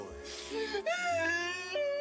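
A person cries and wails in long, high, quavering moans that rise and break, close and emotional, filling the moment with distress.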